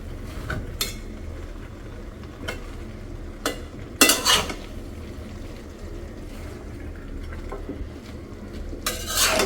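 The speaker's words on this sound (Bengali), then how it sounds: "তো এটা আমি ভালো করে নাড়াচাড়া দিই" Rohu fish-head and Malabar spinach curry stirred in a pot, soft wet stirring under a low sizzle, broken by a few sharp clanks of the utensil against the metal pot.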